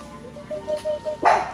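A dog at a rural Vietnamese home during a mango harvest gives a single short, loud bark near the end, after faint quieter yips, close by.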